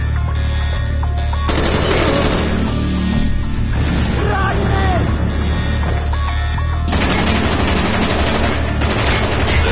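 Heavy gunfire in Call of Duty Black Ops, sustained machine-gun bursts and rapid shots rattling loud and close in two long volleys, with game music and shouted voices in between.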